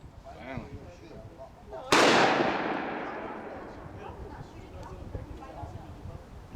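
A single sharp, loud gunshot from an 1860 Army black powder revolver being sighted in outdoors, cracking suddenly and ringing off in a long fading tail, with people chatting quietly before it.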